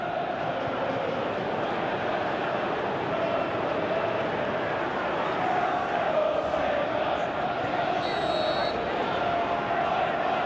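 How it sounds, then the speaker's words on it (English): A simulated stadium crowd in a PES 2018 football video game, Liverpool v West Ham United, produces a steady, dense roar of cheering throughout. "Well, at least the crowd are appreciative of his efforts."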